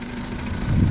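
A 2004 Dodge Neon SXT with a 2.0L engine idles after a transmission mount replacement, giving a brief, steady, close low engine hum with no voices.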